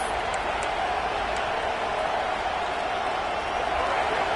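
A steady, distant roar from a stadium crowd at a football game, a broad continuous wash of cheering noise with no distinct peaks.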